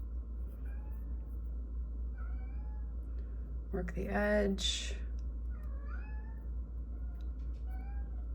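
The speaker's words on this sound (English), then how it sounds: "I have a cat that's yelling outside my office door" A cat yowls outside an office door, a short, loud meowing burst in the middle of the clip over a steady low hum, while a person speaks quietly nearby.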